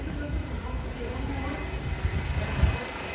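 A D subway train running on the F line toward Coney Island rumbles steadily with low, continuous rolling noise and occasional thumps from the car, a voice talking over it.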